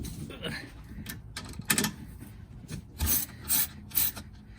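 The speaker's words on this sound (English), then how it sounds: "Next, you remove these 13mm bolts." Wrenching out 13mm bolts from the sway bar brackets on a Porsche 911 Turbo during a rear H&R sway bar install: short scraping, ratcheting bursts of metal tool work, several in a row, close by and moderately loud.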